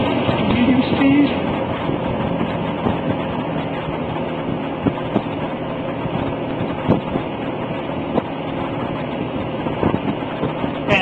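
A vintage 16-inch Signal box fan with three speeds and a thermostat runs at medium speed, giving a steady, even whirring rush of air that stays level throughout.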